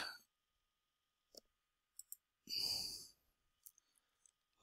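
Sharp computer mouse clicks come in a few separate bursts, with a longer rushing breath-like sound in the middle. The room is otherwise quiet, with no talking.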